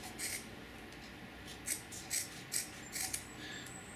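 Scissors snip through patch material in a short series of crisp, close cuts, about five clicks spaced irregularly while a teardrop-shaped repair patch is trimmed.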